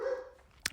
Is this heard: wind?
no